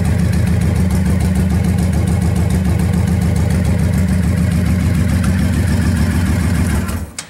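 A 2007 Honda Shadow 1100 Spirit motorcycle engine runs close and loud with a deep, rhythmic V-twin throb that holds steady, then cuts off at the end.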